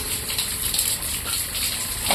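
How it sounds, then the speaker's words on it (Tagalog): Water gushes steadily as a mixed-breed pig is bathed, a broad continuous splashing wash at close range with no pauses. "ligo ko itong baboy dito Landry"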